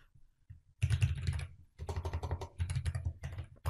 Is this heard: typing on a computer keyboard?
yes